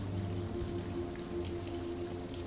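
Steady rain patters softly and evenly at a quiet level, a continuous wash of drops with no voices.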